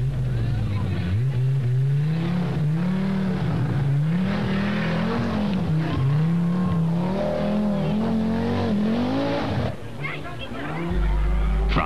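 A Ferrari rally car races through a 1983 Belgian rally stage, its engine revving up and down in repeated surges with gear changes, loud and near, under a commentator's voice.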